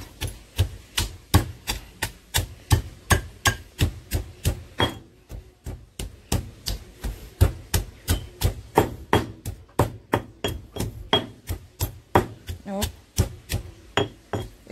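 Garlic and pepper pounded by hand for garlic pigtails, a steady series of sharp, close thuds at roughly two per second with a brief pause partway through.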